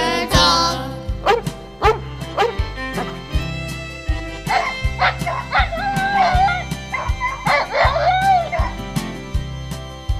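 Yips, barks and whimpers from a Catahoula Leopard Dog sound over a steady, rhythmic musical backing with a pulsing bass line.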